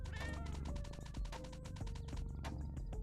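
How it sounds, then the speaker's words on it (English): A cat meows repeatedly in an LSD Dream Emulator fangame, several close, loud meows over a busy musical background. "Cat. There you go."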